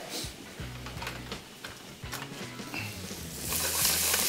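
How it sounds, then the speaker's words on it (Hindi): Chopped garlic fries in a pan with a faint, steady sizzle and some light stirring, while a low rhythmic hum repeats beneath it and the frying grows brighter toward the end. "लहसुन चॉप किया हुआ 2 खाने के चम्मच, और सबसे पहले इसको करेंगे फ्राई"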